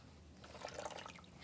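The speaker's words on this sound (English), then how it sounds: "Just put a little bit of water." Warm water poured over a long-haired newborn baby's head during a bath, a soft, quiet trickle and splash that swells briefly in the middle and then fades.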